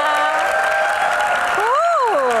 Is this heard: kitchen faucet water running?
no